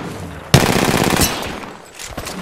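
Rapid automatic gunfire in Apex Legends, a sharp loud burst of closely spaced shots lasting about a second, then fading into reverberant tail and a few lighter impacts.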